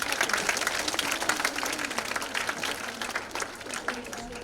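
Audience at a cultural fiesta clapping to welcome a performer, a dense continuous patter of many hands at moderate volume that gradually thins toward the end.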